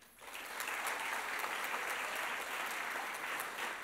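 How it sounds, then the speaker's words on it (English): Audience applause at a 4-H state event opening ceremony, a dense, steady wash of many hands clapping that swells quickly and holds for several seconds. "Give them a big round of applause."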